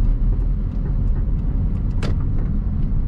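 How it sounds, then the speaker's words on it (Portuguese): Motorcycles and other vehicles move through the busy central streets and market of Itapipoca, Ceará, Brazil, giving a loud, continuous engine rumble close by with brief higher rattles and no talking. "É muita moto."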